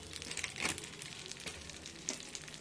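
Vermicelli poured into hot ghee fries with a faint, close crackle and soft rustling stirs, a few brief sharper pops scattered through the quiet sizzle.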